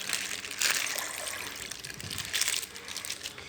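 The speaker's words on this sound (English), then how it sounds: "Now my brother will squeeze the water out." Water is squeezed out of a bag by hand, producing wet crackling and trickling sounds in two stronger bursts, close and moderately loud, with no talking.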